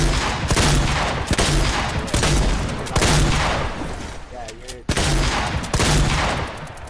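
Rapid bursts of gunfire from the video game Fortnite, loud repeated volleys at close range with a brief lull midway, mixed with game sounds and a voice talking.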